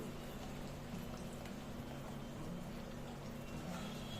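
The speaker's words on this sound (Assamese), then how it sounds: "বাকীবোৰো এনেকুৱাকৈ ভাজি লওঁ।" Masala puri frying in a pan: a steady, even hiss and bubbling of hot oil, faint and continuous for the whole clip with no talk.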